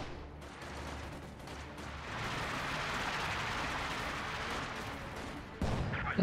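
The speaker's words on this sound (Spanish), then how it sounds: "El ataque de mortero no hizo nada." A mortar barrage in a World War II strategy game, heard as a rumbling, rolling wash of distant blasts and crackling fire that swells and holds steady before one sharper, closer hit near the end.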